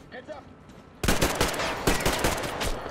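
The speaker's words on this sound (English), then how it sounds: "Bring out the assault rifle." Assault rifle fire in Metro Exodus erupts after a quiet second of low voice, a loud close stream of rapid automatic shots rattling on steadily to the end, with faint speech beneath.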